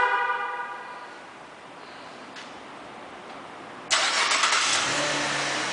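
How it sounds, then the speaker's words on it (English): A 2012 Chevrolet Camaro RS is remote-started, with faint ticking and quiet clicks first, then the engine catching abruptly partway through and settling into a steady close idle, with no one talking. "One of the many features in this vehicle is a remote start, and I'll demonstrate that for you."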